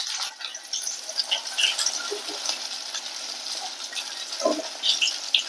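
Pieces of shol fish go into hot oil spiced with cumin, chilli and bay leaf, setting off a steady, lively sizzle and crackle with scattered pops, close by and without talk.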